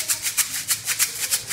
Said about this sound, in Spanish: elaboré una maraca con una botella de plástico y arroz, que suena así